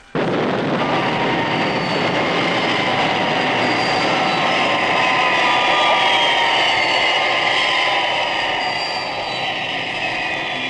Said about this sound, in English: Will not require runway, coming in vertically.